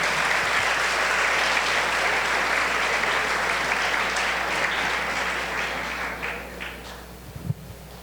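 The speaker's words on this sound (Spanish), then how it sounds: "Un aplauso para Mariana." An audience at a 65th anniversary celebration gives sustained, dense applause with a broad roar of many hands that slowly tapers, ending in a single close thump.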